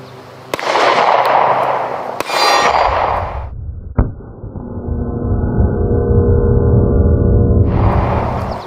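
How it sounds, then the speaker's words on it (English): PSR35 rifle shots ring out as sharp, loud cracks, two close together early and another near the middle, with metallic clanks and a sustained ringing tone in between. "Let's do a couple more shots here."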